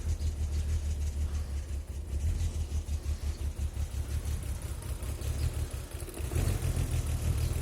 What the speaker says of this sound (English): that rattling is just the exhaust